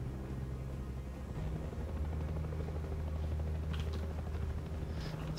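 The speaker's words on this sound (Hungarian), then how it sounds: "Helikoptert hallok." A helicopter in the video game Far Cry 6 drones steadily throughout with a continuous low rotor hum and buzz, moderately loud, with a few faint clicks and rustles near the end.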